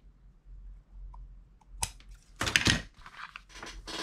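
Scissors snip away excess paper strip on a small stocking stuffer craft project, a few quick close crisp cuts and rustles after a quiet stretch, no voices.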